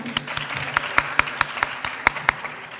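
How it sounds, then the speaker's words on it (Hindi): Scattered, loose clapping from a small audience at an award ceremony, with individual sharp claps standing out, while a voice speaks over the applause. "एक दफ़ा हमारी पूरी इंतज़ामिया के लिए ज़ोरदार तालियां।"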